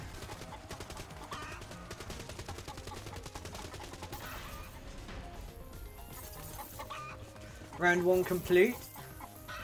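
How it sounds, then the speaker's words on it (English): Dead Ops Arcade 2 gameplay with a chicken clucking loudly and briefly near the end, over dense rapid gunfire and game sounds throughout, with a game announcer voice speaking. "Chicken, chicken!"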